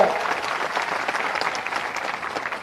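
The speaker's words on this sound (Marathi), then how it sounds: "जोरदार टाळ्या" A large crowd at a political rally for Ashok Chavan breaks into loud, sustained applause, dense clapping that holds steady throughout with no voices clearly on top.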